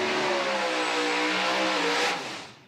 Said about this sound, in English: Vincent, the teal Mustang right-hand side, small block nitrous power